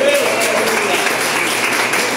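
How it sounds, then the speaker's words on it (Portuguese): Church congregation clapping in a round of applause during a Sunday service, dense steady clapping filling the whole clip at close range with no pauses. "Eu peço que a igreja dê uma salva de palmas para o Senhor Jesus."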